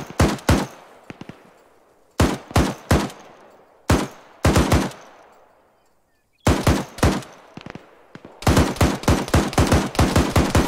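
Machine gun fire in a jungle warfare video game on Tanoa, loud close bursts of rapid shots separated by short pauses, with echoing tails and a longer sustained burst at the end.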